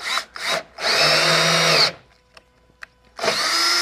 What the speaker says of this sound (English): You can see that drill really torque out of my hand, and that means that it's at the bottom and it's done.